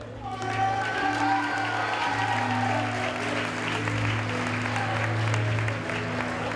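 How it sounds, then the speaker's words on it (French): Steady applause from an audience at a vocational diploma award ceremony, sustained and even for several seconds, with a low steady hum beneath it and no speech. "Il y a des applaudissements, mais Damien n'est pas là."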